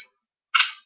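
A single sharp gunshot from Call of Duty Black Ops, a bright, clipped crack that rings briefly before cutting off, with a faint earlier tail at the very start of the short moment.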